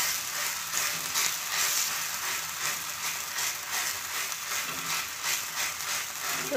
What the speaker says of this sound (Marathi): आपल्याला असे गोळे करून घ्यायचे आणि हे तव्यावर आपल्याला ते टाकून घ्यायचे।